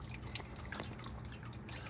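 Cleaner flush drains out of the cooling system of a 1968 Ford LTD, a steady close trickle and drip of liquid splashing with faint scattered droplet ticks throughout, no voices.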